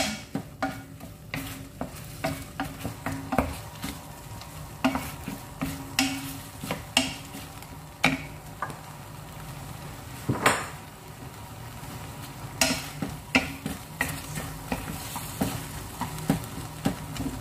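Prawns and spring onion sizzle steadily in a hot pan for a prawn sriracha dish, with repeated scrapes and clinks of a utensil stirring against the metal, close up and without talk.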